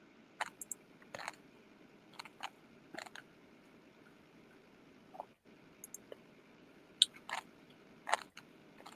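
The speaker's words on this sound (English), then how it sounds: "We can hear you crunching." Someone crunching food while eating, heard as scattered crisp bites at an uneven pace, fairly close and moderately quiet, with no talk over it.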